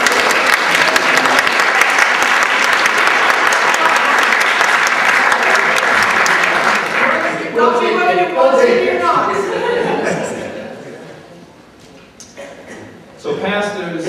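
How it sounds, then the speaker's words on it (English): An audience applauds two pastors at a community panel on race in Fresno, hearty clapping that lasts about seven seconds before fading, after which voices speak over the scattered remaining claps. "Could you give them a hand clap?"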